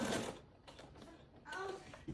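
A sewing machine runs in short bursts, stitching a fabric golf club headcover with a straight tack-down stitch, faint and close, with a voice briefly audible.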